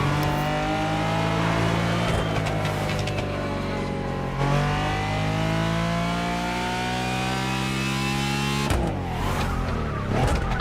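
A Lamborghini Diablo engine in The Crew Motorfest revs hard and close, climbing in pitch through repeated gear changes, with a sharp drop near the end before it pulls again.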